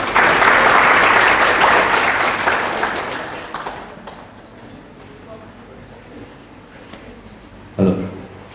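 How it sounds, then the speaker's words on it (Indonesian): Warm audience applause at a data engineering talk as a speaker is welcomed, loud at first and then fading over several seconds, followed by quieter room sounds and a short bump near the end. "Beri tepuk tangan yang meriah."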